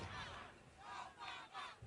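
An enthusiastic election night crowd in Grant Park roars and screams in swelling waves, a dense, distant mass of voices rising and falling several times.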